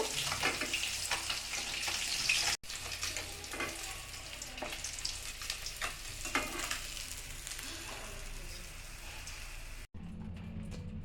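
Koi fish frying in hot oil give off a dense, continuous crackling sizzle, close and even, with a brief dropout near the end.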